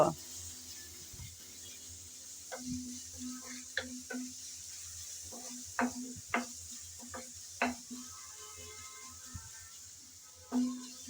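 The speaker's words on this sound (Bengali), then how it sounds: "রসুন বাটা আদা বাটা আর পেঁয়াজ কুচি ভালো করে নেড়ে চেড়ে সামান্য ভেজে নেব" Garlic paste, ginger paste and chopped onion frying in a pan while being stirred, giving a quiet sizzle broken by intermittent sharp scrapes and taps of the spoon against the pan.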